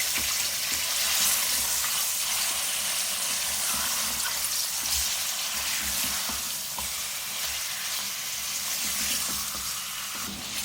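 Chicken pieces frying with onions in a hot pan give a steady, loud, close sizzle with faint stirring scrapes throughout, no voices.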